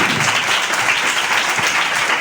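A church congregation breaks into loud, vigorous applause, dense clapping that stays strong and close throughout.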